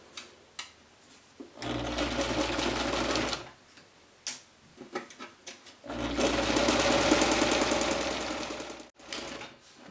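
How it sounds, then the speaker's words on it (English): A sewing machine stitches around the top edge of a drawstring backpack in two sustained bursts, close and loud, with short pauses and light handling clicks between runs. "I'm just going to go forward, back tack, and then go all the way around."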